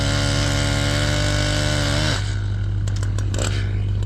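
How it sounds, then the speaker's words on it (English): Several chainsaws cut up frozen fallen trees stuck in snow, a loud close engine drone with a steady low whine that shifts in pitch partway as one saw changes load, mixed with clatter. "So we're running multiple saws, we're cutting things small at this point"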